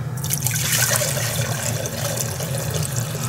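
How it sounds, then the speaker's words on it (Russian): Hot water pours steadily into a container with a continuous splashing trickle, close by, over a low background hum. "Заливаю воду, заливаю."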